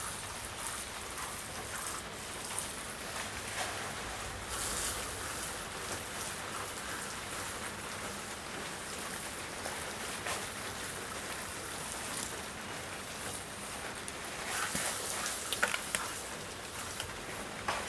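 Garden hose spraying water onto seed trays of corn starters, a steady soft hiss and patter of droplets throughout, fairly quiet and without any talking.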